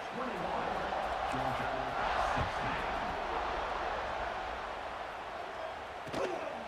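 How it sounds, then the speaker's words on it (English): At an American football stadium, the crowd keeps up a constant, far-off roaring buzz with a few sharper bursts, running the whole time beneath a commentator's voice. "this crowd is buzzing after that last score"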